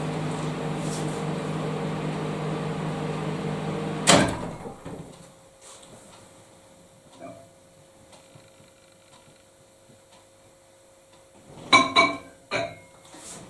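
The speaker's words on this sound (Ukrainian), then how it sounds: "Друзі, в мене є мікрохвильовка." After a loud clunk, a quiet steady hum of a running microwave oven with a faint tone, broken by a few soft knocks and a cluster of clicks later.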